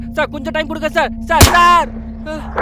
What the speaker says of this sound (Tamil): அது அங்க வெடிச்ச சத்தம்